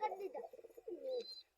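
Domestic pigeons cooing softly and close by, a short burst of low throaty coos. A quiet voice can be heard alongside them.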